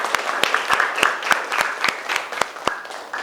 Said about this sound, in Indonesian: kita berikan tepuk tangan dulu untuk diri kita masing-masing